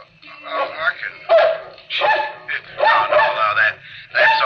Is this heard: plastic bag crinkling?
no